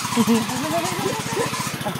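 A motorcycle engine rumbles steadily close by with a regular throbbing pulse as it passes on a village road in Lopez, Quezon, while people's voices sound over it.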